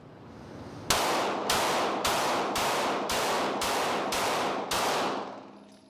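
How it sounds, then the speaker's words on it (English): Glock pistol firing eight sharp, loud shots at a steady, slightly uneven pace outdoors, each crack ringing briefly before the next, with no talk. "We'll lay a couple more rounds down."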